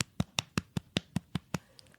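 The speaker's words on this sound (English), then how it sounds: "That's the sound of me slapping my head" Eight sharp hand slaps on a person's own head, close and loud, falling in a steady even rhythm about a fifth of a second apart.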